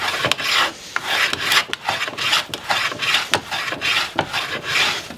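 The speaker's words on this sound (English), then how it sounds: "you can hear the sound of the wood being planed change" Red cedar being planed by hand while making an urn box, a series of rough, rasping strokes in quick succession, each a bright scraping rush with brief pauses between, close and loud with no voices.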